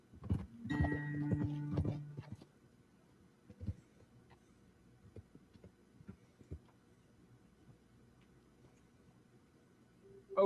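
Horses' hooves clip-clopping in Red Dead Redemption 2, a few soft, spaced thuds after a brief musical tone at the start, faint against a quiet hum.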